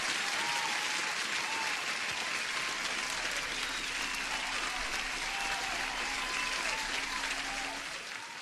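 Steady, moderately faint applause, a dense wash of clapping that holds evenly for about eight seconds before easing slightly at the end.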